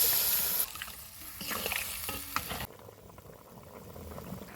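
A Bengali shukto vegetable curry simmers and bubbles in a pan after a little water is added, a continuous close hiss and bubbling that drops to a softer, steady simmer partway through.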